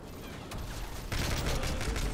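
Enemy gunfire comes through a hole in a wall in Call of Duty MW3, a burst of rapid shots fairly close and moderately loud that grows denser halfway through, over a low rumbling game background.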